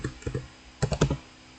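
Computer keyboard keys tapped while working on a remote server session, a couple of soft presses followed by a firmer cluster of three quick strokes, close and moderately loud with no talking.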